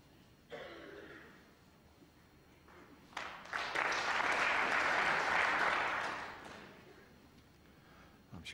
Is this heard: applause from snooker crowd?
yes